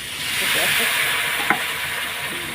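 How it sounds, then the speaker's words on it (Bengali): Chicken masala with tomato and Kashmiri chilli powder fries in a pan, making a close, steady sizzle broken by one sharp clank of a spoon midway. "এখন কষানো হচ্ছে"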